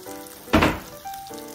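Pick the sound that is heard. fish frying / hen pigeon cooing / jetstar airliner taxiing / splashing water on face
fish frying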